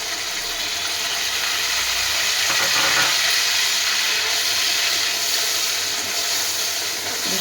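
Ground onion paste drops into hot oil in a pan, giving a loud, continuous close-up sizzle and hiss that holds steady throughout without speech.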